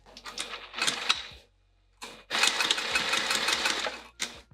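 Sewing machine stitching a zipper, two bursts of rapid mechanical needle chatter, a short run then a longer steady run after a brief pause, close and loud.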